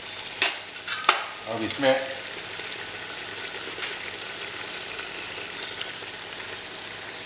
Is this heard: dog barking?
no